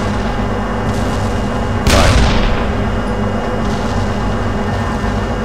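A tank cannon fires once in the ArmA II war video game, a sharp loud boom that decays over a steady low engine rumble.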